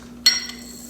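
A single sharp crack as a pestle or utensil mashes juniper berries and black peppercorns, one brief clinking strike over a quiet steady hum.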